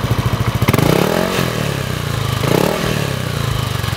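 A modified motorcycle engine idles with a loping, pulsing beat, then revs twice in loud swells and drops back to a choppy idle, recorded up close with no talking.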